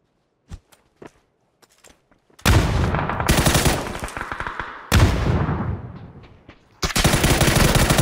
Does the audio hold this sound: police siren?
no